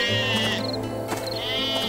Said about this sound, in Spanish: algunos pastores estaban vigilando a sus rebaños de ovejas